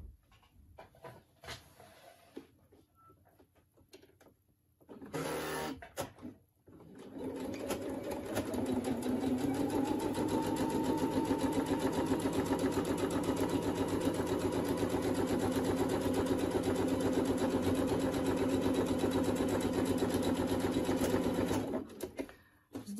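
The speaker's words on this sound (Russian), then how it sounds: "И начинаем строчить." A sewing machine stitching fabric for a handmade doll gives a short burst, then runs in one long, steady, fast whir that lasts most of the stretch before stopping.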